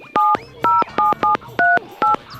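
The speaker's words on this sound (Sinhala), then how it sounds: "මම පොඩ්ඩක් ඒ නෝනාගේ නම්බරේට කෝල් එකක් අරන් බලන්න" A telephone number is punched in as a quick run of seven loud, clean touch-tone beeps, each short dual-pitched tone separated by brief gaps, close and alone with no talk.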